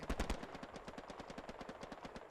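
Rapid automatic gunfire from the video game Hell Let Loose rattles in a fast, even burst of shots, the first few punchier, the rest continuing at a slightly lower level.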